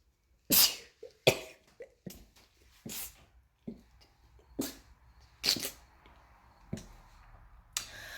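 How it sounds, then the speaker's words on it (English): A sneeze rings out in a quiet indoor mall space being set up as a shop, among several other sharp, close bursts and clacks spaced a second or so apart. "nothing like sneezing on camera"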